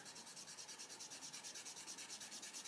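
A Tombow Mono eraser rubbed quickly back and forth on paper, making a close, steady rhythmic scrubbing of even strokes that runs throughout, with no voices.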